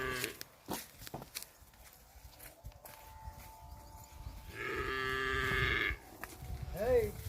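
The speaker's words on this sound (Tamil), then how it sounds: "மாடு மேய்க்கிறதே கஷ்டம் தாங்க." Cattle on a village farm give a brief moo partway through, moderately close amid scattered rustling and footsteps in a quiet outdoor setting.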